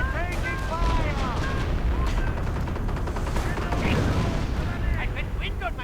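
Dense artillery blasts and gunfire in a World War II real-time strategy game battle with a Sherman tank and a machine gun, a constant loud barrage of booms and rattling bursts under fast commentary.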